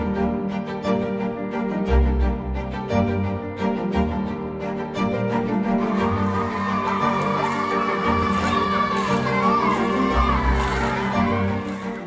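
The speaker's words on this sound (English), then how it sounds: "They are just hopping up and down and screaming and yelling." Excited children in Africa screaming and yelling together at a bike delivery, a dense crowd of high shouts and cheers that swells louder partway through, with music underneath.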